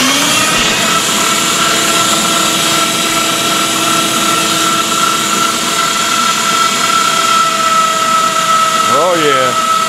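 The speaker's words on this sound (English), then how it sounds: "We'll start this grinder up right now." Electric meat grinder running steadily as bacon is fed through to make bacon sausage, a loud continuous motor drone with a brief rising whine near the end.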